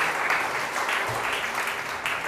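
A church congregation applauding for God, steady clapping from many hands that holds at an even, moderate level throughout.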